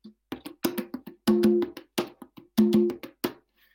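Tumba, the lower conga tuned to G, played by hand in a steady salsa-style pattern of crisp slaps and resonant open tones, close and unaccompanied, with short ringing sustains.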